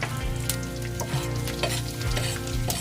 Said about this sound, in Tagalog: ilagay ko na yung aking sibuyas at saka bawang.